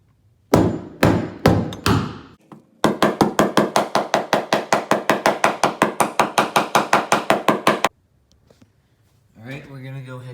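A stiletto framing hammer strikes in a fast, even series of loud, sharp blows after a few opening hits, then stops as a voice begins speaking.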